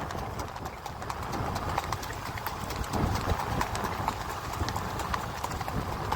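Horse hooves clip-clop steadily over an open field at a horse race gathering in Kutch, close and fairly loud, with a brief whinny and faint voices in the background.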